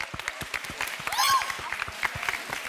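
A studio audience at a TV game show claps in a brief burst of applause, moderately loud, mixed with people talking.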